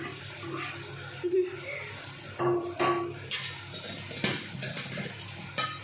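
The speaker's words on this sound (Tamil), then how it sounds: "நல்லா வதங்கட்டும்." A spoon stirs tomato masala with green chillies as it sautés in a pan, giving scraping, clinking strokes over a soft sizzle in a home kitchen.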